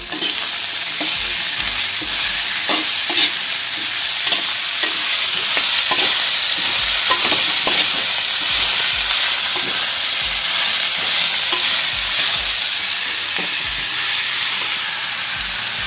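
Chopped figs sizzle and fry steadily in a pan, with occasional stirring scrapes and clinks throughout, no voices.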